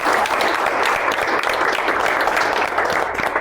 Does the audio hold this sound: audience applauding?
yes